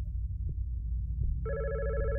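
In the horror video game God's Basement, a telephone starts ringing partway through with an electronic trill. A low, rumbling ambient drone runs underneath, along with a couple of faint thuds before the ring.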